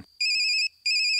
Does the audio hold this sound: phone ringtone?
yes